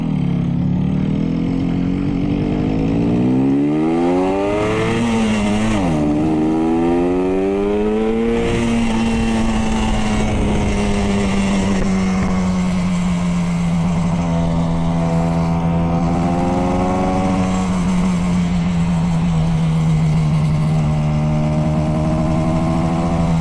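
A vintage 2-stroke road motorcycle engine is heard while riding, loud and close and droning continuously. Its pitch climbs and falls as the bike accelerates and shifts, then holds a steady cruising whine.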